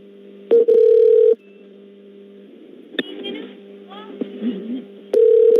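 Repeated telephone touch-tone DTMF redialing during a prank call to a phone support line, with bursts of steady tones at the start and end and muffled voices and line noise between them.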